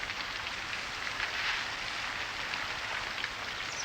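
Steady rain falls outdoors as a soft, even hiss of drops on surfaces, faint and continuous, with no voices over it.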